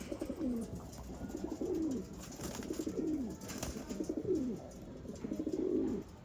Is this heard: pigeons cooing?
yes